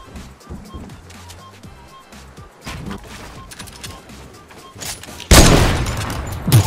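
Rapid bursts of gunfire in a Fortnite Battle Royale match, a dense fusillade under faint game sounds that erupts loudly near the end.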